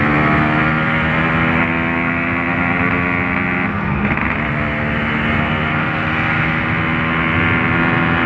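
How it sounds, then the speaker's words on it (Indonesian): An old two-stroke motorcycle engine idles while it warms up, giving a steady, close, harmonically rich buzz that runs unbroken with only a slight dip midway. "Kita jangan gaspol dulu karena belum waktunya. Ini sebatas manasin mesin dulu teman-teman."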